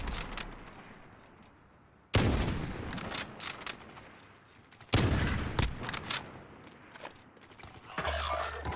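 Two loud bursts of gunfire from a picked-up gun in a video game, each starting with a sharp blast followed by rapid crackling shots that fade, then another burst near the end.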